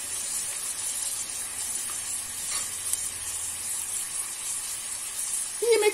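Tomato paste fries in a pan for a cauliflower and minced meat dish, making an even hissing sizzle, with a brief utensil clatter at the very end.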